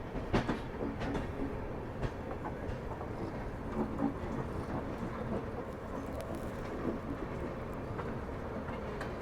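A train rake being shunted in a railway yard near a coach care centre gives a low, distant rumble with faint wheel clicks and occasional knocks, steady throughout and without talking.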